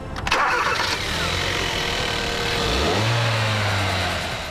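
A 2013 Hyundai Veloster Turbo with a turbocharged, intercooled 1.6-liter four-cylinder cranks and catches, then revs up and settles into a loud, steady idle, heard close and alone.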